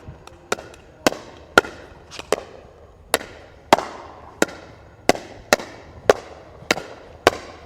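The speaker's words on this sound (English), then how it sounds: "now we're going to do all volleys, no bounces, Bill" Pickleball volleys traded back and forth without bounces, sharp hollow paddle pops about every half second in a steady rally, moderately close with a faint echo.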